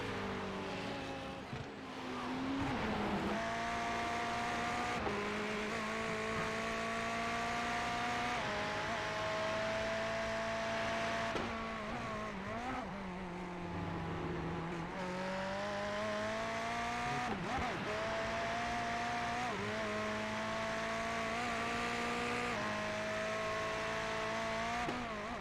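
GT race cars lapping Oulton Park, engines droning steadily with rising and falling pitch as they accelerate and shift, a continuous loud mechanical roar with no talk over it.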